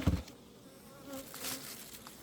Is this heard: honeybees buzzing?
yes